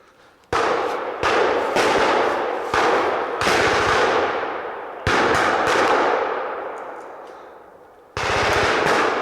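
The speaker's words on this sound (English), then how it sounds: "That's an MG42." An MG42 machine gun fires at a WWII battle reenactment in several long, loud, rapid bursts, each a dense ripping roar that echoes and trails off before the next burst starts.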